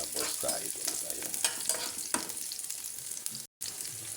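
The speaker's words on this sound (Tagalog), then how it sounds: "dito sa ating isang kawali, tayo ay magigisa na rin doon sa ating lulutuin, ginataang suso" Aromatics sauté in a kawali for ginataang suso, a close, steady frying sizzle with stirring scrapes and clinks, a brief dropout near the end, no talking.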